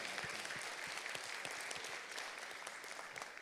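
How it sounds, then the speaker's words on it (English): Applause from a seated audience at an agri-business investment forum in Jamaica, a steady wash of many hands clapping at even volume for a few seconds, heard somewhat distant with no voices over it. "that deserves a round of applause"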